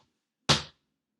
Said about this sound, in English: That's our stomp. So it'll sound like this.